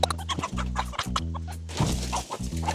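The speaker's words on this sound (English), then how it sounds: "one such celeb-level byproduct is their famous Fujian chicken" Fujian chickens on a farm in Changting cluck and squawk close by, with repeated choppy calls over a steady low mechanical drone.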